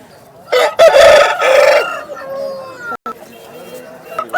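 A rooster crows once, loud and close at a rooster market in Vijayawada, its call rising and falling, followed by someone speaking over faint background noise.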